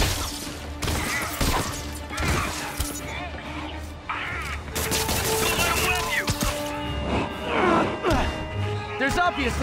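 Gunfire and crashing impacts from the video game Marvel's Spider-Man, loud and dense throughout, with bursts and thuds mixed with voices talking.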